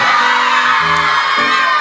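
Children shouting outside near rented rooms in Truskavets, a loud continuous mix of yells and whoops from a group, filling the whole stretch without pause.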